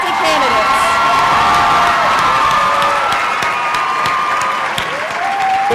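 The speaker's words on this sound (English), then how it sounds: "let's give a big round of applause for the parents of the 2009 royalty candidates" A school coronation crowd gives sustained, loud applause with cheers and whoops for the parents of the 2009 royalty candidates, dense clapping filling the hall throughout.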